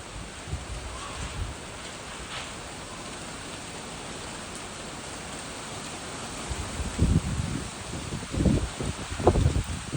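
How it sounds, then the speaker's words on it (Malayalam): Strong wind roars steadily across an outdoor spot, with a fine drizzle hissing underneath. Gusts and buffeting bumps grow louder toward the end, as though the wind is shaking the recording phone. "ദാ ഗൈസ് ഇവിടെ എല്ലാം നല്ല പോലെ കാറ്റ് വീശിക്കൊണ്ടിരിക്കുകയാണ്"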